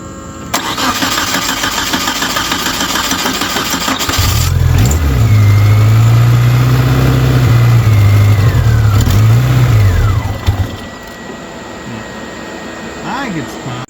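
A Suzuki Samurai fitted with Holley Sniper EFI cranks on the key for a few seconds, then catches and runs with a loud, close engine roar that revs a bit before being shut off. A voice can be heard briefly.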